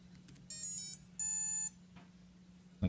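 Quadcopter motor on a DIY 250 quad emits high electronic beeps just after the battery is plugged in: two short tonal bursts, then a longer one, fairly clear over a low hum.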